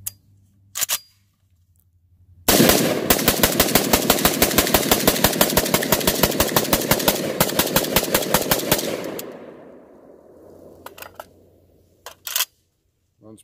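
An Icon Weapons G223 Galil-style pistol fires a fast, continuous string of about thirty loud, close, evenly spaced shots at an outdoor range, with a few scattered single reports before and after.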